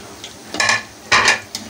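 Crispy fried fish is lifted from a pan on a switched-off stove, with two or three close, bright clanks and scrapes of metal utensil against the pan in quick succession.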